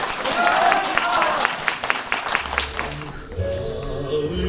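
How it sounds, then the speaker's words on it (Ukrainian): Loud, dense applause from an audience at a university of the third age's creative evening for Student Day, honouring heroes, steady for about three seconds before fading into quieter background sounds. "нехай гучні оплески прозвучать нам на честь наших героїв"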